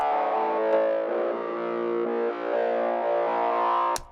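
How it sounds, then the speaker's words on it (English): A mid-range synth line for a house track, driven hard through diode distortion and heavily compressed, plays as a steady, buzzy sustained tone on its own, ending in a brief sharp click. "really taking those mid part and driving really hard with diode, turning into this, and then we are heavy compressing it"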